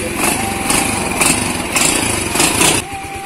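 Honda C70 motorcycle engine fitted with an EX5 cylinder head, running steadily with a rhythmic, pulsing beat that swells every half second or so, loud and close with no talk.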